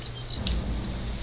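A bunch of keys jangling, a brief bright metallic rattle with a sharp chink near the middle, close and fairly loud.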